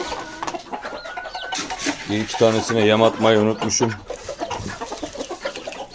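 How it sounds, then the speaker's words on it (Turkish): Village hens cluck around a farmyard coop at feeding time, a busy run of short, close calls rising in the middle, heard under someone talking. "Burada bir tane kurt tavuğum var."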